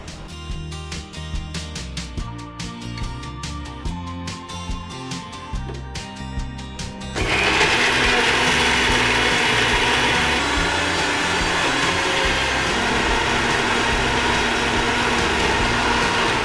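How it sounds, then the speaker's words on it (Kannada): A kitchen mixer grinder grinds masala with a little water, running as a steady loud whirring drone that gets louder and harsher about halfway through and keeps going without a break. "ಓಕೆ, ಸೊ ಇದನ್ನ ಅದನ್ನು ಮಿಕ್ಸಿ ಮಾಡಬೇಕು."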